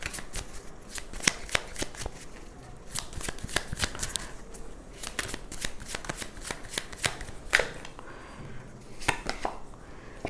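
Tarot cards shuffle by hand at close range, a quiet run of quick riffling snaps and flicks repeating in bursts with short gaps between them.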